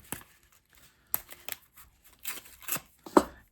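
Scissors snipping foam tape into small pieces, several sharp separate cuts spaced irregularly and close to the mic, with quiet gaps and a slight rustle of tape between them.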